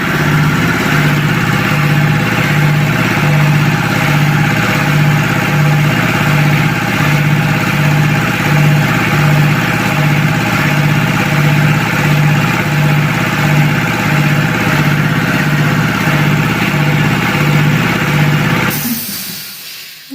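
An AL-FA ALC150-2 air compressor with a 150-litre receiver and a 3.8 kW motor runs loud and steady as it fills its tank, making a constant droning hum with a regular pulsing throb. It cuts off abruptly near the end.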